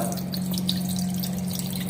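Water pours steadily into a cooking pot for a chicken and egg recipe, with a continuous splashing rush and a low hum underneath.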